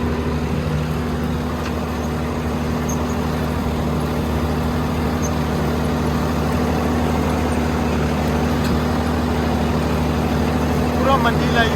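A Swaraj 969 4WD tractor engine runs steadily at 1500 rpm in first high gear while working a field, giving a continuous low, droning rumble that holds loud and even throughout.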